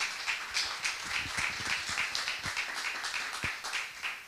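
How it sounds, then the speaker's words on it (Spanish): Audience applause at a conference talk, a steady wash of many hands clapping at moderate level, with a few louder individual claps standing out near the start, continuing evenly throughout without speech. "un aplauso también para Álvaro"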